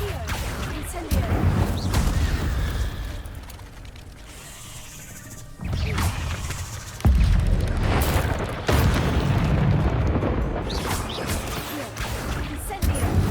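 Incendio fire spell in the wizarding game Hogwarts Legacy, repeated loud whooshing blasts of flame with heavy rumbling bursts, cast several times with short gaps between them.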